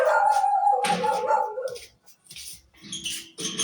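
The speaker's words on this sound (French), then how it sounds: "Faut pas bloquer les chiens, là." Several dogs howl and bark close by, a long wavering howl followed by a run of sharp barks and yips with short pauses between them.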